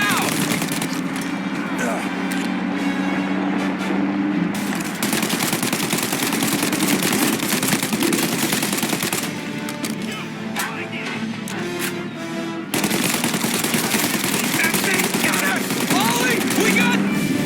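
Gunfire in the video game Mafia Definitive Edition, bursts of rapid shots and heavy firing through most of the shootout, with characters shouting over it.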